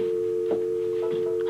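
A steady telephone dial tone hums continuously after a caller hangs up, with faint background clicks underneath.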